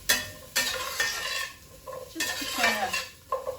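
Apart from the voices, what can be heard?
stirring sautéed pumpkin in a pan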